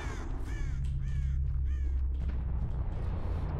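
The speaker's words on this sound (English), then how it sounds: "A bird just flew up." Crows caw several times in a row as a bird flies up in the Dead by Daylight video game, harsh repeated calls over a steady low rumbling ambience.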